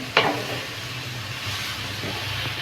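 Cabbage and other vegetables frying in a pan while being stirred: a steady close sizzle and hiss with an initial sharp scrape of the spoon, continuous and without talk.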